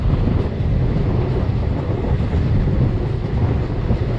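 Karnataka Express passenger train hauled by a WP7 locomotive, heard as a heavy, continuous low rumble and roar with wind buffeting, loud and steady throughout.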